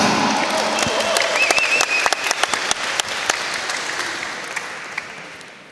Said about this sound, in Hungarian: Hadd kérjek tőletek egy óriási tapsot annak a 16 boxolónak